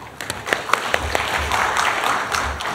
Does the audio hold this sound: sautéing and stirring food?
no